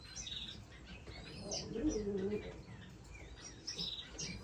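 Cock birds in a room full of finch breeding cages give soft chirps and tweets. The calls are scattered and faint and overlap one another, with a low cooing sound underneath and a light rustle of wings.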